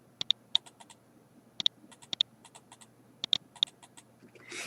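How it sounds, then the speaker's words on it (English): Several crisp computer keyboard key clicks come in small clusters over a quiet background, with paired presses suggesting the enter key struck twice, and a brief rustle at the end. "I'm going to hit enter twice."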